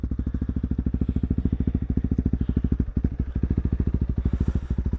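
A Honda CRF300L motorcycle idling on a wet day, its single-cylinder engine putting out a loud, close, steady rapid thump with a slight dip midway, no voices.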